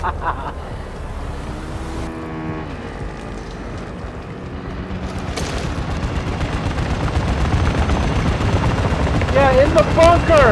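Gunfire in the video game Call of Duty: Modern Warfare II during the Shadow Siege event, with dense bursts of shots and rumbling vehicle noise that swell louder over the clip, and game voices shouting.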